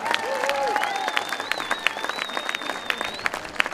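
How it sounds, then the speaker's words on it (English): Protest crowd at a Dunedin rally against hospital cuts applauding outdoors, clapping and light cheering with whistles riding over it, gradually thinning into scattered claps. "Give yourselves a big round of applause"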